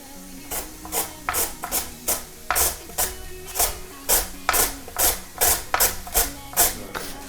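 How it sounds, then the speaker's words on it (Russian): Rhythmic rasping strokes of beetroot being grated on a grater, about a dozen even back-and-forth scrapes, close and steady. "пожалуй, я попробую натереть на терке"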